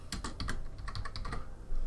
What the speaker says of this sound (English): typing in PvP Tools